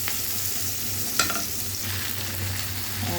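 Onion, garlic and ginger are stirred in a pan of hot oil, giving a steady close sizzle with one sharp spoon scrape partway through and no talk.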